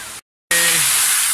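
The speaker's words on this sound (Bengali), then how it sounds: "এই তো পিছনে একটা ঝর্ণা" A waterfall near a park glass bridge gives a loud, steady, broadband rush that cuts out briefly before resuming at full strength.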